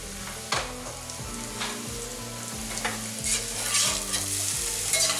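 Ramp greens cooking in a skillet, a steady bright sizzle with repeated stirring scrapes, joined by music with a regular beat throughout.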